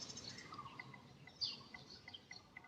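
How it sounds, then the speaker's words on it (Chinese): Small birds in a quiet park with blooming pink shower trees chirp faintly and sporadically in the distance, with scattered short high tweets over soft background hiss. "可以收到鸟叫声"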